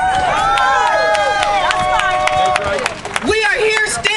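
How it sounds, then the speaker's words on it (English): A crowd at a justice rally and press conference claps in sharp, regular beats while loud voices cheer and shout over it, close and energetic throughout. "Clap it up."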